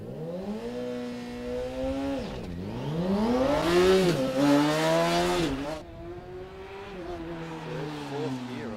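A Formula SAE race car at the 2024 Formula SAE Australasia competition revs hard, its engine note climbing, dipping sharply at a gear change, then rising again through the next gears, loud and close.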